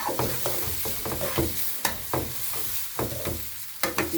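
Rice is stirred continuously through melting butter in a hot pan, giving a steady sizzle broken by repeated scraping strokes of the spoon, close and fairly loud with no talking.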